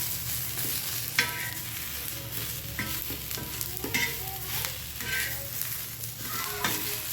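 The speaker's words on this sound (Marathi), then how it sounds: "चांगलं लाल होईपर्यंत भाजायचं याला." Masala of ginger, garlic and tomato roasting in a pan, a steady close sizzle broken by frequent spatula scrapes and clinks, with no talking.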